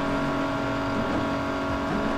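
A Cadillac's engine in the racing game Midnight Club 3 DUB Edition drones loudly and continuously, a steady revving hum with slight pitch shifts throughout.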